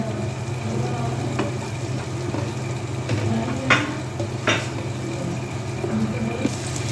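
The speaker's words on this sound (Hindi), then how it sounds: "ये तीनों चीज़ें आप शामिल कर दें और इसको अच्छे से थोड़ा सा सौते कर लें" Onion, capsicum and spring onion sauté in hot oil for a restaurant-style chicken Manchurian, giving a steady close sizzle with a low hum beneath and a few soft scraping stirs.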